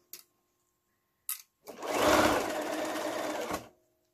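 An electric sewing machine runs a straight seam on fabric while a zip fastener is being inserted: a couple of short clicks, then a close, steady whirring burst of stitching lasting about two seconds before stopping.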